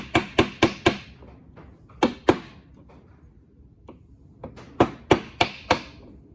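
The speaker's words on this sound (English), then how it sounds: "I will come into my chisel and just take a tiny bit of this" A chisel tapped with a mallet while paring a wood trim cut, heard as crisp close knocks in quick groups of three to five, with short pauses between the clusters.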